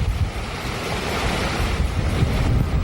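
Loud ocean surf and waves roll in on a windy, hazy beach lined with palm trees, with blowing sand and heavy wind buffeting the microphone in a constant roar, no talk.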